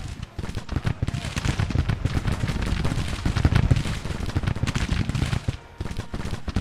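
Springfield musket volleys in the Civil War strategy game Grand Tactician, a dense crackling fusillade of many rifle shots rolling continuously at close range, with brief lulls near the start and end.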